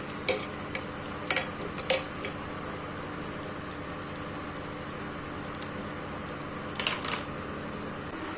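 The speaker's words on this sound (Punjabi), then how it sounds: "ਸਨੈਕਸ ਚੰਗੀ ਤਰ੍ਹਾਂ ਫਰਾਈ ਹੋ ਰਹੇ ਨੇ" Homemade snacks such as kebabs or French fries frying in hot oil, a steady low sizzle throughout with a few sharp clicks and taps of utensils, fairly faint and with no talking.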